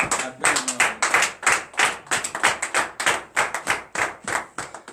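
Hands clap in a brisk, fairly regular rhythm during a morning prayer gathering in Benin, each sharp clap distinct and close, repeating steadily from start to finish.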